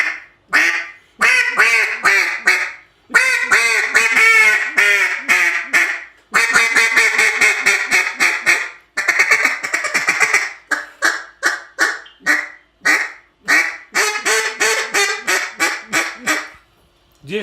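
A medium-volume duck call with lots of back pressure and some range, blown in long runs of rapid quacks and shorter spaced single quacks, loud and close with no talking.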